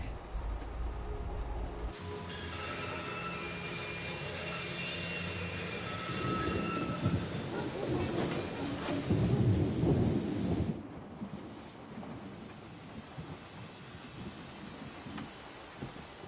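Thunderstorm in the video game Syberia: a deep rumble of thunder rolls and swells over steady rain, peaking loudly mid-way before fading back to a softer downpour.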